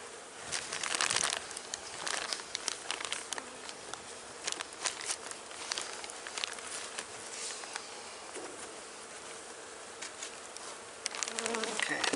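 Honey bees hum around an open hive in mid March, a steady close buzz with occasional crinkling and tapping of handling, and no voices.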